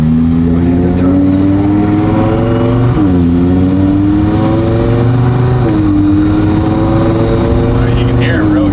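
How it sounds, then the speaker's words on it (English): A turbocharged V10 engine in an Audi R8 revs hard, its pitch climbing, dipping and rising again in a loud continuous roar close by, with people talking over it. "Those noises coming from a V10 is crazy to me."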